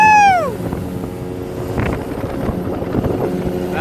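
A small motorboat engine drones steadily on a dam reservoir at Malampuzha, with a brief whining tone at the start, then a continuous close, loud hum with wind and water wash.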